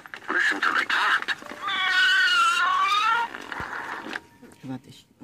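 A vintage See N Say farm toy plays its cat sound, a recorded meow rising and falling at close range, surrounded by brief talking before and after.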